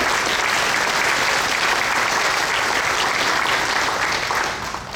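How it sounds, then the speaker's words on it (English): A packed audience at a hurricane preparedness seminar breaks into a dense, sustained round of applause, loud and continuous, easing off slightly in the last moment. "Let's give Hank a round of applause."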